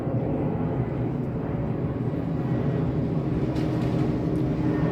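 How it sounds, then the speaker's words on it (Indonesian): Airplane passing overhead above a home garden, a steady loud broadband roar that holds through the whole stretch with no talk. "di sini lagi ada pesawat ya"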